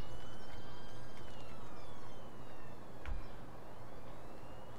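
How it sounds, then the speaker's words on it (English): A siren wails faintly in Farming Simulator 17, with thin rising and falling tones over a steady low engine rumble and one brief click. "that siren is in the game"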